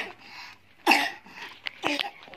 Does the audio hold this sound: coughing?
yes